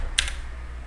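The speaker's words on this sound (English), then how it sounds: "So I'm just going to go ahead and type it out." One brief, sharp click of a computer keyboard key, close and crisp, followed by a low steady hum.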